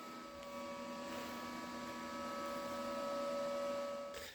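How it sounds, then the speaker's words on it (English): A grinder works down welds on a car body in a cut-and-butt panel repair, a steady whining drone with tonal hum that swells slightly, then cuts off at the end. "I'm going to go ahead now and get this all grinded up,"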